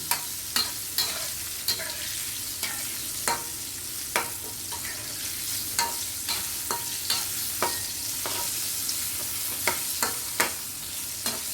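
Pork intestines frying in a pan with a steady sizzle while a utensil stirs and flips them, giving sharp scraping clicks at an irregular rhythm, close and alone.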